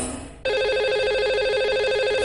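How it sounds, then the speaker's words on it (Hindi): Telephone ringing as a call is placed on a radio phone-in show: a steady electronic ring tone starts abruptly after a brief lead-in and holds loud and continuous to the end. "लगाते हैं इन्हें कॉल और करते हैं इनसे बात"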